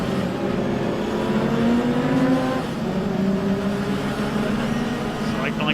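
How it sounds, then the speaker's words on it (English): A supercharged Jaguar race car winds past on the Snetterton circuit, its engine note rising and shifting steadily at moderate distance, with commentary talking over it. "Listen for the supercharger on that number 4 Jaguar as he winds its way through."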